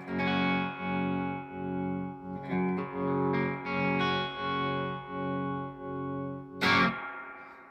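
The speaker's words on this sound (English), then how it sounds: "So let's have a little look at the tremolo side then. So start off in its tube mode." A Strymon Flint V2 tremolo in tube mode pulses an electric guitar chord in a steady, even throb of about two beats per second, followed by a new strum and a short bright scrape near the end.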